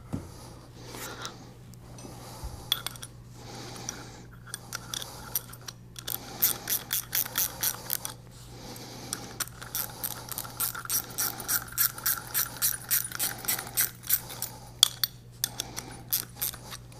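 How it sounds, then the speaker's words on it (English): Hand ratchet tightening the stem and body nuts on a flush tank ball valve, quick bursts of crisp clicking in a steady rhythm with short pauses between runs, close and fairly quiet over a faint hum. "we're going to tighten up the stem, the body nuts"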